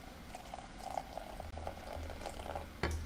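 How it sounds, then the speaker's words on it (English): Boiling water pours into a cup with soft bubbling and trickling, quiet and close, ending with a light clink. "Then we're going to add 1/2 cup of boiling water."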